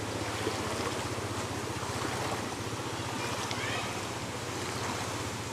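Floodwater rushing through the town of Mae Sai, a dense continuous roar of flowing water with a low rumbling undertone, loud and steady for the whole stretch, no voices.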